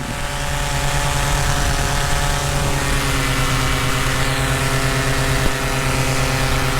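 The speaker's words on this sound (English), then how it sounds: "the engine had some sort of sputter at full throttle" A paramotor engine runs at full throttle with a tandem passenger aboard, a steady loud droning buzz with strong harmonic tones and a brief hiccup near the end where it misses momentarily.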